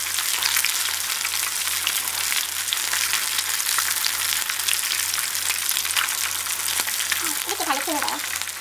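Battered shrimp and vegetables deep frying in hot oil give a steady, loud, dense sizzle and crackle throughout, with a brief stir or bubbling flurry near the end.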